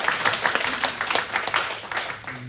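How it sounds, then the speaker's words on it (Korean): A church congregation claps during a Sunday worship service in comfort for a bereaved family, a steady, fairly close round of applause lasting throughout with a faint hum underneath. "박수로 한번 위로해 주시면 감사하겠습니다"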